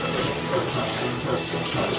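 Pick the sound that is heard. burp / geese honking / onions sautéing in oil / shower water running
shower water running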